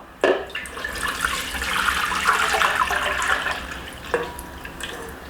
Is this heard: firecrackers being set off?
no